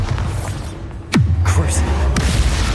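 A Bombarda blasting spell goes off in Hogwarts Legacy, a sudden low boom that swells out of busy combat noise and leaves a heavy rumbling tail, with faint voices in the background.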